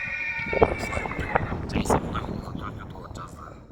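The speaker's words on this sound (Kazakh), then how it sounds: "Мініп жүрген жақсы аттың баласы. Шауып жүрген аттың баласы." A horse at a livestock market whinnies loudly and close, a long rising-and-falling neigh near the start, with hoof clops, wind and people talking around it.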